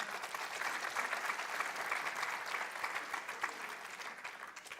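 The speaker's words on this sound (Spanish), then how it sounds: "Denme un aplauso a Dios por eso" A church congregation claps together in sustained, dense applause, an even wash of many hands at moderate distance that holds steady for the whole stretch with no voices over it.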